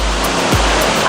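A waterfall roars steadily and loudly, close by, as a dense continuous wash of falling water with no talk over it.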